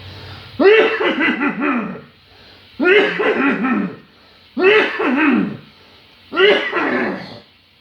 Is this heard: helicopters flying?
no